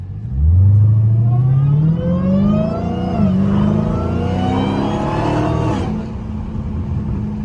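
A Dodge Hellcat engine revs up with a rising, high-pitched whine that climbs and holds loud and close, then cuts off and settles.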